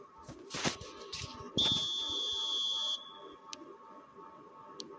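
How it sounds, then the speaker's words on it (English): A referee's whistle blows at kick-off in the eFootball video game, one sustained shrill tone lasting over a second, preceded by crowd noise and a few brief sharp sounds. "There's the whistle."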